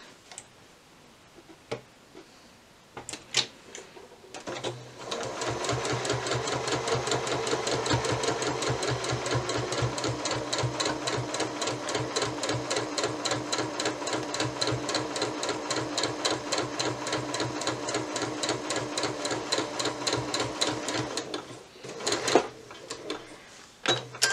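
A sewing machine quilting patchwork fabric runs in a long steady burst of rapid rhythmic stitching, close and clear, with brief starts and stops at either end.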